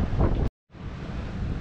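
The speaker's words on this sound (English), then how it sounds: "Just like that, suddenly gust." A gust of wind roars over the microphone aboard a sailboat near Jolly Harbour, a loud rushing blast that drops out briefly and returns as steady buffeting with faint sea wash beneath.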